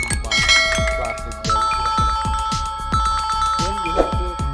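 The "Simple" ringtone previewed on a Samsung Galaxy M31 phone plays as a clear, repeating pattern of bright bell-like chime notes in a steady rhythm, sounding on its own throughout.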